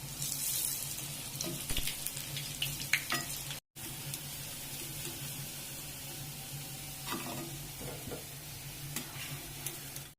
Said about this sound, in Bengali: কোপ্তাগুলো এইভাবে বানিয়ে নিয়েছি, এবার ভেজে নেব।